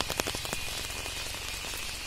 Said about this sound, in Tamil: இன்னைக்கு நல்ல காத்தோட கனமழை